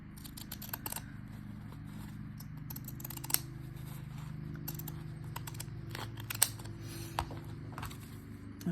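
Scissors snip through paper napkin pieces being cut for envelopes, a series of faint, quiet clicks and crisp cuts scattered irregularly over a low background hum.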